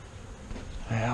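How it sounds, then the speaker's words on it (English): A swarm of honey bees in a box taken from a tree makes a soft, steady insect hum, and a voice comes in near the end. "Now we got our bees in the box."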